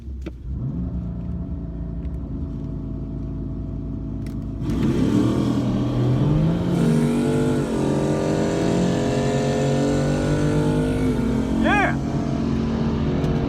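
BMW M3 running on E85 makes a quarter-mile drag pass, a steady low rumble at idle that jumps into a loud, rising engine roar through the gears around the midpoint and stays strong to the end.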